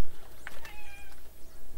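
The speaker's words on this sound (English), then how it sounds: "there's a cat, as per usual" A domestic cat meows a couple of times, close and fairly clear, over a steady low room hum in a home workshop where flux is being made.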